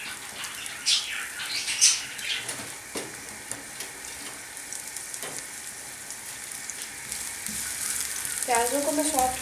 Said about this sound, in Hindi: प्याजों को मैं सॉफ्ट होने तक भूनूंगी।